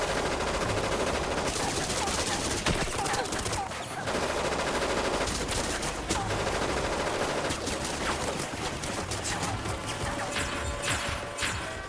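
Machine gun fire in an anime battle, a dense sustained barrage of rapid shots with crashing impacts, loud and continuous throughout.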